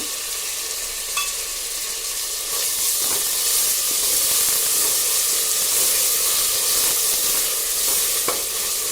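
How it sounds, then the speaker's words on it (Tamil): Tomatoes and salt fry in a pan after onions for mutton thokku, giving a loud, steady sizzle and hiss up close, with a few stirring scrapes and no talking. "நல்லா தக்காளி வந்து நல்லா மசிஞ்சு வரட்டும்."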